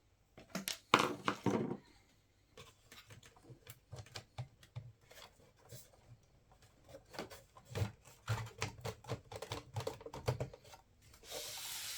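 Plastic and metal clicks, scrapes and rattles as the top cover of a 2000s Shuttle small-form-factor PC is slid back and lifted off, a run of close, irregular taps and rubs with no talking.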